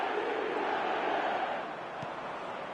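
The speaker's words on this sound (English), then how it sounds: "the crowd level has gone up a notch or 10" Loud stadium crowd roar in an eFootball match, a dense sustained wall of cheering that swells early and eases slightly toward the end, with no clear speech.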